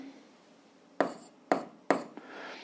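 Pen or chalk writing out algebra exercise answers, heard as three distinct scratchy strokes about half a second apart with a fainter fourth touch, close and alone against a quiet room.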